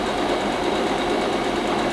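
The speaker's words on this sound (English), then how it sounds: "I'm going to sew it." A sewing machine stitching the pinned seams of a bow tie blouse, with a steady, continuous mechanical whir running close and even for the whole stretch, no voices.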